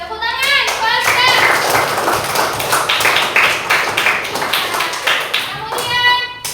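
A classroom of children claps their hands together, a burst of quick, uneven, close applause that rises and falls, with a few young voices chiming in over the clapping.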